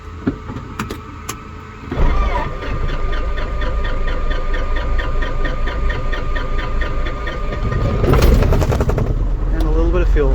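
A Cirrus SR20 airplane piston engine cranks with a rapid rhythmic chatter, then catches and runs loudly, surging briefly near the end, with a few clicks before start-up.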